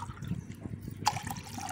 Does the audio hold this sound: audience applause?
no